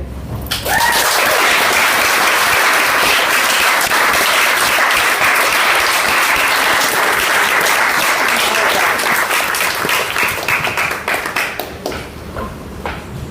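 An audience claps loudly and continuously after a speaker's personal talk about breast cancer at 26, a dense sustained ovation that swells quickly and tapers near the end, with a brief voice at the start.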